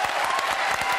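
Studio audience at a French radio variety show in the Maison de la Radio gives a short burst of steady applause, dense and close, filling the whole moment with no talk over it.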